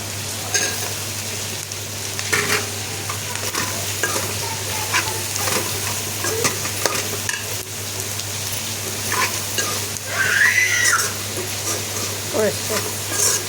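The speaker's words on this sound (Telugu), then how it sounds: "ఇప్పుడు బీరకాయ ముక్కలు వేసి" Ridge gourd pieces fry in oil with chilli powder and turmeric, a continuous close sizzle broken by repeated stirring scrapes, with a brief voice partway through.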